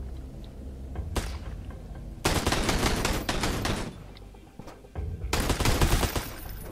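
Automatic gunfire crackles in the video game Sunkenland during a raid on a tribe outpost: a brief burst, then a long sustained volley, a pause, and another heavy burst, loud and close.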